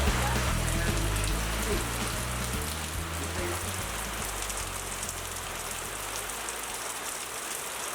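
Rain falling on an outdoor tent set up while brisket is being smoked, a steady hiss of drops patters continuously on the surface, with a low rumble underneath fading out partway through.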